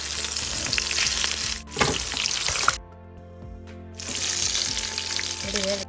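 Chicken chapli kababs fry in a pan with a loud, close, steady sizzle. The sizzle drops away for about a second partway through, then returns just as strongly.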